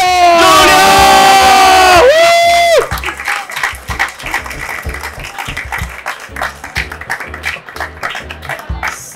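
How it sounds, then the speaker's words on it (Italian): A crowd at a miniature-painting event applauds and cheers loudly, first with sustained shouting and whooping, then dense rhythmic clapping that carries on steadily to the end. "Un applausione a Giulio!"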